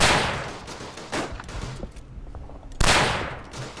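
Gunshots in a Verdun World War I trench battle: a loud sharp rifle crack opens, then scattered distant shots, and a second close, loud report near the end, each ringing and decaying.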